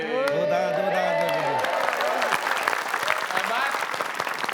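Audience applause rises at a staged comedy show, starting under a host's speech and a short music sting, then spreading into dense, steady clapping with some crowd noise.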